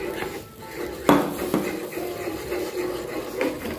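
Milk being stirred into a flour roux sauce in a pan for béchamel, with a spoon scraping and clinking against the pan in light, irregular strokes and one sharper knock.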